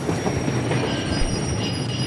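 A train passes in Metro Exodus with a steady, loud rumble of rolling wheels and carriages. It sounds close and continuous, and no one speaks.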